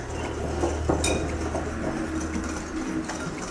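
Dry ingredients being mixed in a bowl for pumpkin rolls, a steady scraping and stirring close up with a few light clinks of the utensil against the bowl, no voices.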